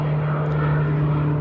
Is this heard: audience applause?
no